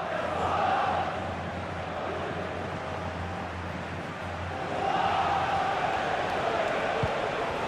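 Stadium crowd in the football video game EA FC 25 urging a player to shoot, a broad roar of many voices that holds steady, dips slightly, then swells again, with a commentator speaking over it.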